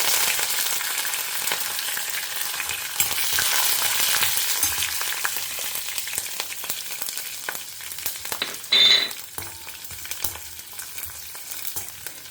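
Mustard seeds and urad dal fry in hot oil in a home kitchen, giving a steady, close sizzle with fine crackling pops that rises briefly louder near the end and has no talking over it.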